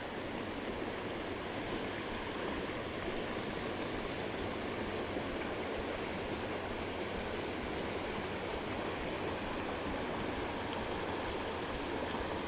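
Steady, broadband rush of a waterfall pouring into a creek at Coker Creek, loud and continuous throughout with no voices.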